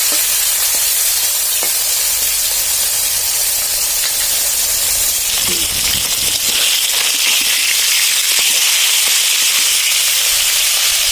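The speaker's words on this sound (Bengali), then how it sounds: "দেখেন মাছ ভেজে নেবো।" Fish fries in hot oil in a wok, giving a loud, steady, crackling sizzle that grows harsher halfway through, with scattered pops and spatters and no voices.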